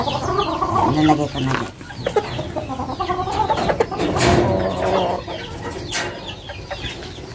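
Young rooster stag clucking in its coop, several close, uneven clucks and short calls spread across the clip, with a voice speaking briefly over them.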